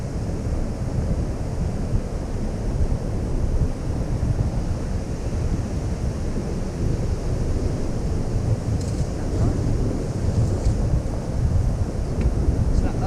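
Surf breaking on a North Norfolk beach, a steady broad roar of waves with wind buffeting the microphone, continuous and loud throughout with no clear voices.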